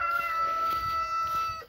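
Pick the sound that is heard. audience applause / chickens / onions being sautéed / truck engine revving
chickens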